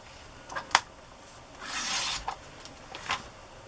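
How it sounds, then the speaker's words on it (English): Paper being cut in half while making a book reader's journal gives a few short rasping, rubbing strokes, with one longer swish in the middle, close and fairly quiet, with no speech. "So to cut it in half, I'm going to cut it at 5 1/4."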